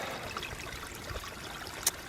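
Water trickling from a 1-inch PVC pipe fed by a spring box, a soft, continuous running stream with one brief sharp tap near the end.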